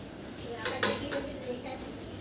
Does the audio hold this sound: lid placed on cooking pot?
yes